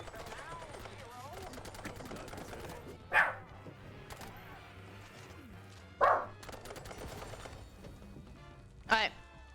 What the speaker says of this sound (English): Yeah, it's my dog.